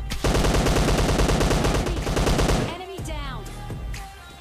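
Rapid automatic gunfire from a gun in PUBG Lite, a loud dense burst of shots lasting over two seconds, followed by quieter game sounds and faint voice.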